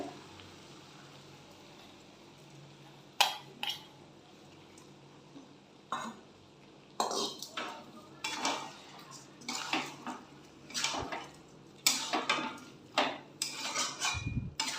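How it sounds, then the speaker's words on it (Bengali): Soaked Gobindobhog rice tipped into a pot of cooked young jackfruit, heard as clattering pan and utensil knocks and rustling pours that start sparse and grow busier, close by, with no voices. "এই পর্যায়ে আমি এখানে ভেজানো গোবিন্দভোগের চাল দিয়ে দিচ্ছি"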